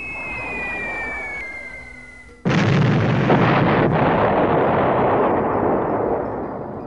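Bombs from a B-17 Flying Fortress group explode on target as a board-game sound effect: after a steady engine drone, a sudden loud blast erupts and rolls on as a sustained, rumbling barrage of explosions.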